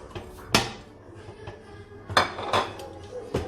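Stirring tomato, parsley, coriander and spices in a pot for Moroccan couscous, with two sharp metallic clanks of a utensil against the pot amid softer scraping and clinking.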